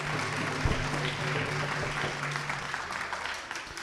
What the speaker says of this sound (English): One more round of applause for Nak, ladies and gentlemen.